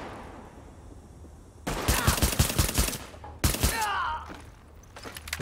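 Rapid gunfire in the video game The Division: two loud, fast bursts of automatic shots, the first lasting over a second and the second shorter, with quieter ambient noise between and after.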